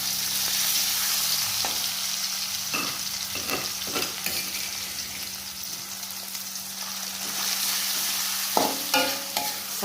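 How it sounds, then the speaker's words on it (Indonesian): Ground spice paste frying and being stirred in a pan while cooking chicken liver and gizzards, with a steady sizzle throughout and occasional scraping stirs, close and alone with no voices. "Kita masukkan bumbu yang sudah diulek."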